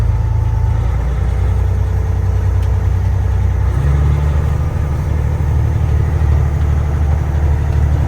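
A Freightliner truck with a Cat engine and a manifold leak at cylinder 6 runs steadily, a close, loud, low diesel rumble that shifts to a deeper, heavier drone partway through.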